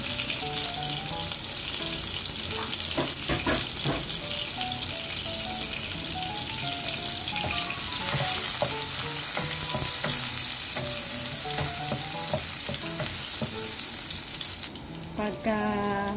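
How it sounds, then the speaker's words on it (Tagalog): Garlic sautés in hot cooking oil in a pan, a continuous loud sizzle broken by repeated scraping and clinking of a spatula stirring, close up, ending with a brief louder burst near the finish. "Gisa ng garlic."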